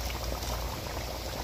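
Steady bubbling, sizzling liquid close up, a continuous simmering boil with no voices, as hot water is added to duck curry frying in a pot.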